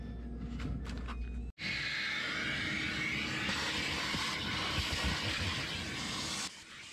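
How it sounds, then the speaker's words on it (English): A Ridgid WD4070 4-gallon, 5 HP shop vac starts abruptly and runs as a steady, loud whooshing roar inside an F-150, then cuts off near the end. "it's much more powerful than my 17-year-old Walmart shop vac that I've had forever"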